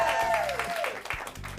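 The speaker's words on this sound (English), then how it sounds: "Let's give a round of applause for Joe," An audience on a game-show set applauds the winner of a Two Truths and a Lie round, a steady wash of clapping heard under a host's voice speaking over it.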